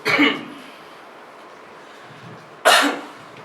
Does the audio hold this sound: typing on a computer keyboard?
no